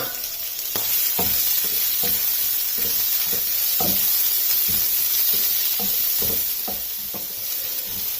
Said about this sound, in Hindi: अब प्याज को इसमें 2 मिनट तक फ्राई कर लेना।